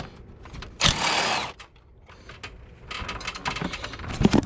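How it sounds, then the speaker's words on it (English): A ratchet on a Ford F150 with a 3.0 diesel works a 10 millimeter bolt loose, giving a burst of close mechanical clicking and rattling, then a quieter pause and more bursts of clicks and knocks. "So we'll take this 10 millimeter off."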